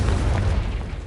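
A loud explosive blast from the Confringo fire spell in Hogwarts Legacy, a deep booming burst with rumbling low end that holds steady through the moment, with no voices over it.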